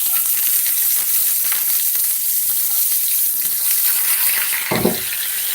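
Chopped onion sizzles and fries steadily in a pan for a béchamel pasta, a constant close hiss with light stirring scrapes and a brief louder clatter near the end.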